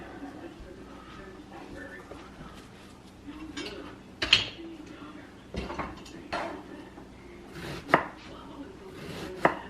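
Onion chopped for a salad with a knife on a board: a few sharp, uneven cuts spaced a second or two apart, close by and moderately loud, while people talk in the background.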